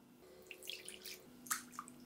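Hot water poured into a bowl while making dough for stuffed pastries, heard as faint splashing and dripping with a few light taps, soft and close over a low steady hum.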